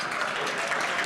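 Audience clapping at a St. Patrick's Day luncheon, a steady dense patter of many hands filling the room at even loudness for the whole moment, no voices over it.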